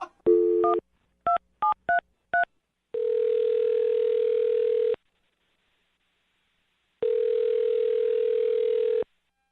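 Touch-tone keypad beeps on a telephone: a quick burst of dialing tones, then two long steady tones separated by silence as the line rings out before a call. Clear and close, with no talking.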